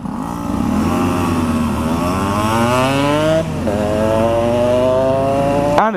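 An old two-stroke motorcycle revs close by on a wet road, its high, buzzy note rising and falling through several throttle blips with a brief dip midway. No voices.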